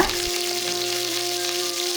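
Onions sauté in hot oil with a steady, close sizzle that crackles evenly throughout, with no talking.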